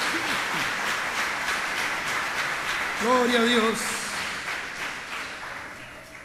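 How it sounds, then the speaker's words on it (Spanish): A church congregation at a Reformation Day celebration applauding, a broad wash of many hands clapping throughout while a voice calls out over it. "¿Cuántos pueden darle un aplauso al Señor?"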